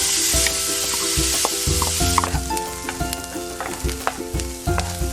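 Onions sauté with garlic in oil, a continuous close sizzle broken by repeated clinks and scrapes of a utensil stirring the pan.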